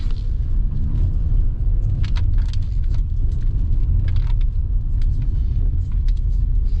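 Steady low rumble of a used Renault Samsung SM6 LE on a test drive, a constant cabin drone with road noise and faint ticks and knocks, no talking.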